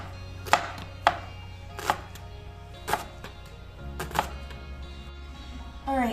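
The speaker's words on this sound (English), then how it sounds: "next we're gonna do our purple onion. And like with all the other ones, I'm gonna chop it as thin" A knife chops a purple onion thinly on a board: about seven distinct, sharp thuds spaced irregularly over a quiet room hum.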